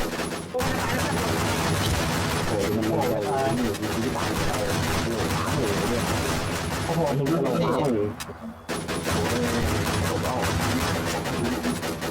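Rapid gunfire from the fantasy shooter game Warz: TheKingZ, loud and dense, with bursts running nearly continuously and a short break before resuming, under excited talk.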